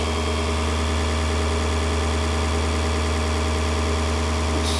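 Generator running steadily with a loud, close, constant mechanical drone and broadband hiss, no change in pace and no voices.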